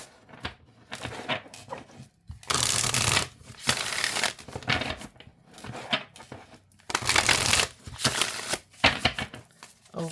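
An oracle card deck is shuffled overhand in repeated bursts of crisp riffling and slapping, close and fairly loud, with short pauses between the flurries.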